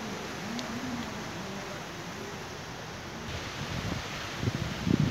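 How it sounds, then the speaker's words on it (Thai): Strong wind and rain outdoors, a steady broad rushing noise throughout with some heavier gusts and rustle toward the end. "ฝนลมแรงครับ"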